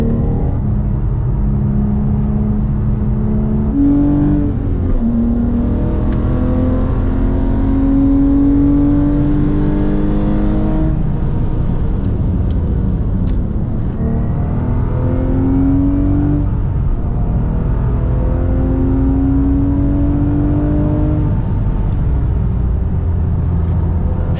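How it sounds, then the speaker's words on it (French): A six-cylinder car engine roars loudly and continuously at a track day, revving up and down through the gears close by, with no talking. "Je sais pas si tu arrives à entendre le son de ce 6 cylindres"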